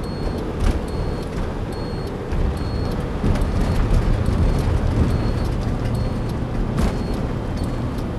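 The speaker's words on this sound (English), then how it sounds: "let that semi and that car get by you there" A semi truck and a car pass on the road with a loud, continuous roar of traffic and tyre noise that swells slightly midway, heard close and steady.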